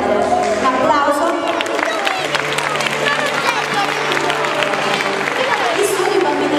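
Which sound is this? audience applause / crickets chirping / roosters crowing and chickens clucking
audience applause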